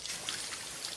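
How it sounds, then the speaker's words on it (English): A waterfall in nature gives a steady, soft broadband rush of falling water, even and continuous with no other sounds. "When this is the sound of a waterfall in nature"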